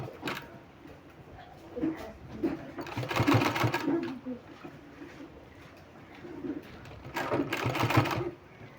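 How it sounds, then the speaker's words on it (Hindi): Sewing machine stitching pleats on palazzo pants, two short bursts of rapid whirring stitching separated by a pause, with someone speaking and pigeons cooing in the background. "हमको इसमें इस तरह से सिलाई लगाना है"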